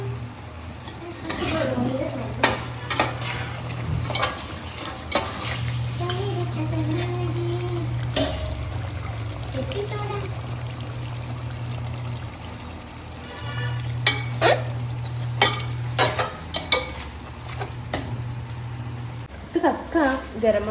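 Food frying in a pan is stirred in repeated scraping bursts over a soft sizzle and a steady low hum, while people talk throughout.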